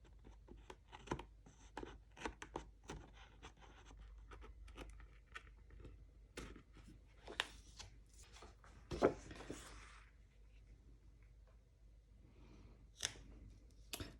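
Scissors snipping off overhanging alpha stickers on a craft project, a run of quiet, close cuts and crinkles with paper rustling, no talk.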